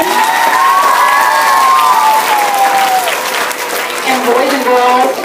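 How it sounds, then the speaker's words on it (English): Applause and cheering from a school audience of children, loud and sustained, with shouts and high voices rising over continuous clapping throughout. "So let's give them a round of applause one more time."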